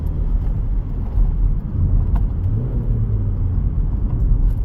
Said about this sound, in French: Je suis dans un virage à une main et je change les vitesses sans débrayer.